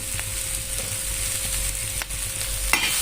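Onions roast in a pan for a crisp onion chutney, giving a steady low sizzle with occasional spatula scrapes and knocks as they are stirred, close by and without speech.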